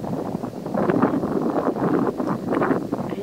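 Steady wind blowing across the microphone near a lake and canola fields in Canada, a continuous broadband rush with gusty swells, no voices.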